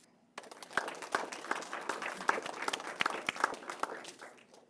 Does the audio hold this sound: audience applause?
yes